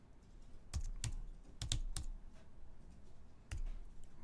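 Keys tapped on a computer keyboard to type a short word into a text layer, a few sharp separate clicks in an irregular rhythm, close and fairly loud, with no talking.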